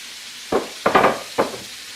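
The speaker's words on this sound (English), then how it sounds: "I'm going to put in the cabbage and the onion. You can hear that sizzle." Three short bursts of crackling sizzle, close and fairly loud, as cabbage and onion drop into hot oil, with quiet gaps between them.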